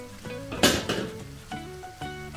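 A burst of loud sizzling as ground masala paste for chana curry hits hot oil, fading quickly, with metal utensil clinks and scraping against a pan.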